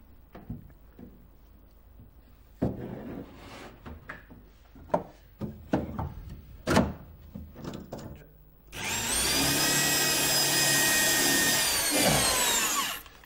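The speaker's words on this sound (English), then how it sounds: "I'm cutting the counterbore with a Forstner bit." Some seconds of tapping and handling of timber, then a power drill fitted with a Forstner bit bores a counterbore in wood for a boat fit-out, whirring steadily and loudly for about four seconds before spinning down.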